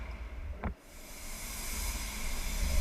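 A spray gun applies black metallic base coat over a car fender as a steady, close airy hiss that swells gradually, with a brief pop near the start.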